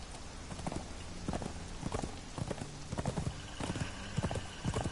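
Horse hooves clip-clopping at a steady walking rhythm in the video game Conan Exiles, evenly spaced hoof strikes repeating over a soft background hum.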